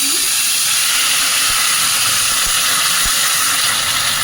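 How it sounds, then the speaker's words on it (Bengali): Onion paste hits hot oil with cinnamon, cloves and black cardamom for a Bengali-style prawn curry, giving a steady, loud bright sizzle and hiss with a few soft clinks from a utensil. "দারচিনি, লবঙ্গ, বড় এলাচ, পেঁয়াজ বাটাটা দিচ্ছি।"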